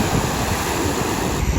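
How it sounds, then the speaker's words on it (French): Huge ocean waves crash against a rocky shore, a loud, continuous roar of surf and rushing water mixed with wind buffeting the microphone, with no voices. "mais les vagues sont énormes."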